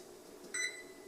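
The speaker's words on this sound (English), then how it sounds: "we'll go ahead and set our kitchen timer for 10 minutes" A kitchen timer gives a quick pair of bright electronic beeps as it is set, faint against a steady low room hum.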